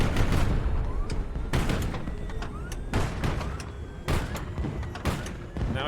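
Missiles launch and explode in the naval combat video game HighFleet, a series of loud, sharp blasts and booming bursts spaced irregularly over a rumbling background.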